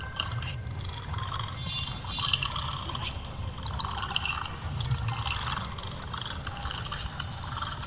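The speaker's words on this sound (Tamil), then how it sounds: "ஸ்விம்மிங் பூலில் தண்ணி வரும்." Water pours into a swimming pool in Very Little Nightmares, a steady rushing flow under a low rumbling game ambience, with no voices.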